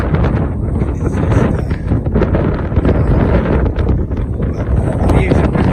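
Strong gusty wind of 40 to 50 mph on an exposed mountain trail, roaring loudly and steadily into the microphone with rushing buffets, no words spoken.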